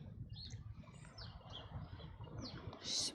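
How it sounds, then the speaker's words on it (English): Faint, scattered outdoor birdsong with brief chirps and tweets over a quiet low background rumble, ending in a louder, sharper call. "Birds are having a party."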